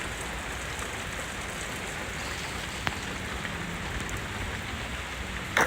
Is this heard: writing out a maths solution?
no